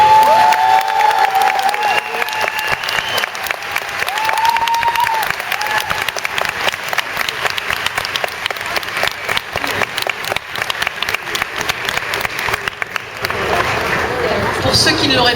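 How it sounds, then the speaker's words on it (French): A large convention audience at TGS 2012 gives loud, sustained applause to welcome a guest on stage, dense clapping with some cheering that continues for the whole stretch. "je vous demande d'accueillir avec force applaudissements Madame Christine Bauer von Straten."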